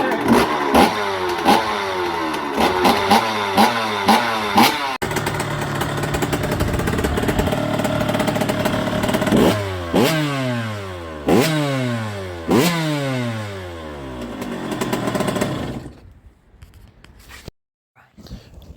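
A rebuilt 2005 KTM SX 85 dirt bike engine runs loud and close, revving again and again in sharp rising and falling bursts over a busy idle, then cuts out near the end.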